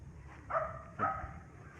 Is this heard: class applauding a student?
no